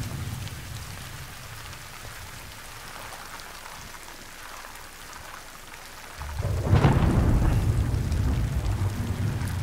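Steady rain pours in the Death Stranding game world, then a loud low rumble of thunder rolls in around six seconds and keeps growling under the downpour to the end.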